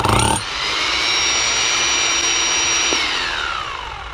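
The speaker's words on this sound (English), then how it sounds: "First, we have to have a hammer drill." A hammer drill grinds steadily through brick into a crawl space, one continuous high, whining drone that runs loud and unbroken for several seconds after a short burst at the start, then slowly fades.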